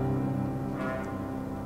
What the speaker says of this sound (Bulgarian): Гробовният звън на камбаните